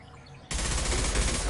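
Dense, sustained gunfire erupts abruptly after a short quiet lead-in in the Mass Effect video game, sounding like a loud, continuous fusillade of rapid shots.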